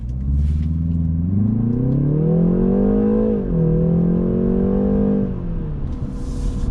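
A 2020 BMW 330i pulls away hard from a standstill. Its exhaust rises through the revs in a loud, close, steady drone, dips briefly at a gear change, then climbs again and eases off. No one speaks.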